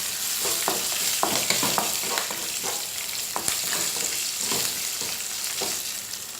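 Dried red chillies, curry leaves, ginger and green chillies fry in hot oil, giving a steady close sizzle broken by repeated scraping stirs, with no talking.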